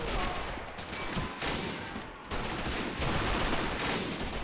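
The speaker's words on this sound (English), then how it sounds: "That's some assault rifle action." STG-44 assault rifle fire in a World War II fort siege battle game, dense overlapping bursts and crackling shots continuing nonstop, loud and close with distant fire mixed in.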